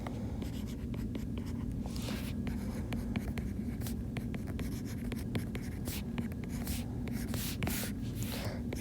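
A pen or pencil writes out a polynomial division problem on paper, the close scratching strokes coming in quick irregular bursts and short pauses over a low steady room hum, with no talking.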